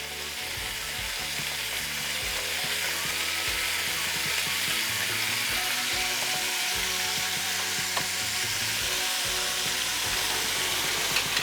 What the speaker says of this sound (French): Donc on fait bien rissoler pour donner une bonne coloration